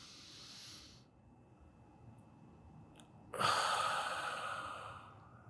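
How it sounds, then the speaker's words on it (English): Someone breathes deeply during a somatic relaxation exercise: a soft breath fades into a held pause of near silence, then a loud, airy exhale releases and trails off slowly. "while you're breathing deeply like this"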